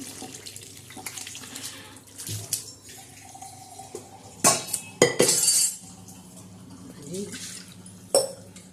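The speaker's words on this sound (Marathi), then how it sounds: "आता वरून आपण हे पाणी टाकलं कुकर धुवून थोडस असं गरा गरा असं चांगलं हालून घ्यायचं" Water splashes into a pressure cooker and is swirled around to rinse it, with bursts of pouring and sloshing, metallic clinks and a voice talking throughout.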